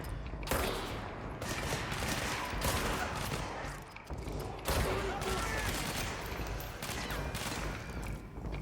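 Rapid bursts of automatic gunfire from the video game Control fill the scene, loud and dense with sharp volleys throughout, while a voice talks intermittently underneath.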